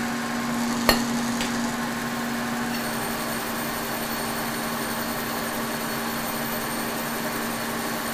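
A K&T 6 inch universal lathe cuts metal at about 1 inch per minute feed, a steady droning whine with one sharp knock early on, close and continuous without speech.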